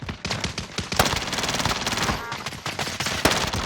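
Rapid automatic bursts from a MAC-10 submachine gun in the shooter game Warzone, dense stuttering fire running almost nonstop with a few sharper single cracks standing out, loud and close.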